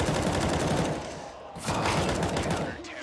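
Dense rapid gunfire in a CS:GO esports match, loud continuous bursts with a brief lull midway, overlapped by excited commentary speech.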